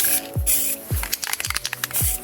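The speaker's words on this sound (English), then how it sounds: "Just going to spray some" High-temperature clear coat sprays from an aerosol can onto old cardboard in short hissing bursts, close and fairly loud, with soft pops and clicks from the can between the sprays.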